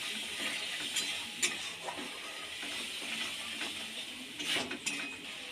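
Catla fish oil with turmeric and salt gets stirred in a pan, giving a faint soft sizzle with light scraping spoon strokes and small clinks.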